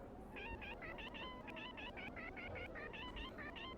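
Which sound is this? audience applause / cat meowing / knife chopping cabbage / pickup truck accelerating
cat meowing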